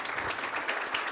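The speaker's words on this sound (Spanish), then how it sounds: "Aplausos para Marcos Ayerra." An audience claps for a speaker, Marcos Ayerra, Secretary of SMEs, Entrepreneurs and the Knowledge Economy. The applause is steady and dense and lasts the whole moment without a pause.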